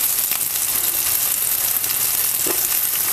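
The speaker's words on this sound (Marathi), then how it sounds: "आपल्याला वांगी आहे ना परतून घ्यायचं हे तेलामध्ये" Masala-stuffed eggplant fries in hot oil with a steady, dense sizzle and crackle that carries close and loud throughout, with no voices.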